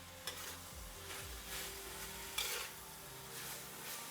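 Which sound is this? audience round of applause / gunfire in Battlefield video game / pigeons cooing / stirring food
stirring food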